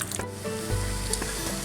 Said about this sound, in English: It's starting to sizzle away.